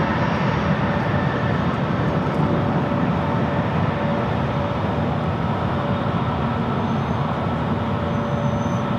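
A Delta Air Lines Airbus A321neo airliner at Los Angeles airport produces a steady, loud broadband jet roar with a faint whine, constant in level without clear approach or fade.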